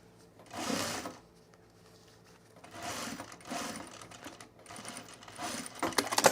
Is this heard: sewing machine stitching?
yes